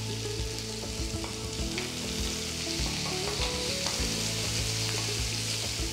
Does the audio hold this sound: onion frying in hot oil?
yes